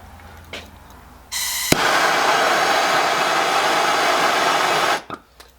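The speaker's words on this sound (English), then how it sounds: "I'm going to take this torch here." A handheld torch lit near a fire block and railroad track during a Coleman 502 stove rebuild, its flame a loud steady roar that starts abruptly after a click, holds for several seconds and cuts off.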